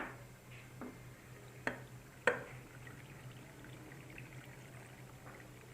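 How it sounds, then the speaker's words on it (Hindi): Water is poured into a jar packed with salted vegetables for a homemade probiotic ferment: a quiet, close trickle with a few sharp clinks against the glass. "अब इसके अंदर भी इसी तरह से आप पानी डालेंगे।"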